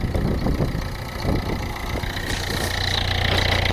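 A car's diesel engine, one with a diesel leak, idles steadily in a loud, close, rough rumble with a faint rhythmic vibration, and no one speaks over it.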